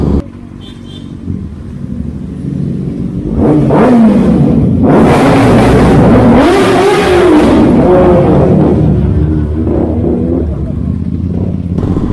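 A motorcycle engine revs hard and roars, echoing loudly as if under an overpass, with rising and falling pitch over several seconds.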